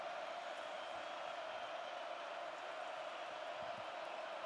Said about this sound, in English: Crowd screaming.